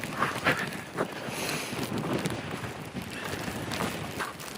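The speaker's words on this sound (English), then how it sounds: "if I show you quite how cold and windy it was in the winter" Strong gusty winter wind roars and buffets the microphone continuously in the Norwegian fjords at Åndalsnes, Norway, a dense rushing noise with intermittent blasts.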